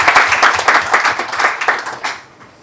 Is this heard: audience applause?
yes